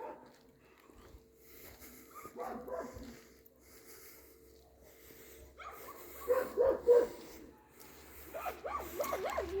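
A dog gives a few yips and whimpering barks outdoors in a village at night, faint at first, then louder in short bursts, with people talking nearby.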